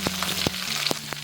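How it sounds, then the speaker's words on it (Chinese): Aromatics sizzle steadily in oil in a clay pot over low heat for squid with sand ginger, a dense close crackle broken by several sharp stir clacks of a utensil against the pot. "砂锅里我们来一些油，把这些料头放上去，小火给它炒香。"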